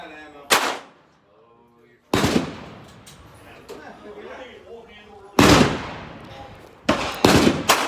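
Handgun shots at an indoor shooting range, several sharp loud cracks spaced irregularly with a quick pair near the end, each ringing briefly, with quiet talking in the gaps.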